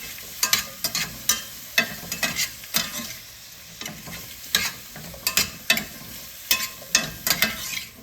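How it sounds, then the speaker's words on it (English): Vegetables for sambar are stirred and sautéed in hot oil, a soft sizzle beneath repeated scraping strokes of a spoon in the pan, close and rhythmic. "Let's give this a nice stir. Probably saute it for just around 30 seconds."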